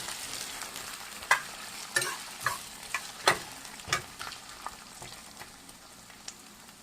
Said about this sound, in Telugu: మంచిగా డీప్ ఫ్రై లాగా చేసుకోవాలండి